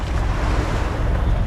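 Ocean waves surge and wash steadily around a small boat in shallow, rocky water off Surigao, a dense, continuous roar of surf mixed with wind buffeting the microphone.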